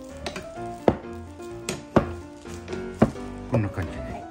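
A kitchen knife chops sharply on a board in a few separate strokes, close up, with faint background tones between the cuts, while making soba noodles by hand.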